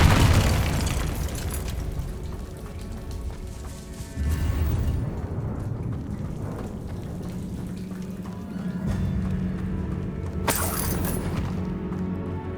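A Confringo blasting curse goes off in the Hogwarts Legacy video game, with two loud booming bursts standing out over steady game music and rumbling ambience, the second ending in a sharp bright crack.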